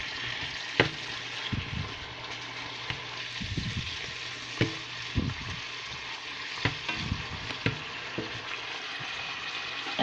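Pork sizzling in a pan near the end of cooking, a steady close frying hiss broken by scattered clicks and scrapes as the meat is stirred and flipped.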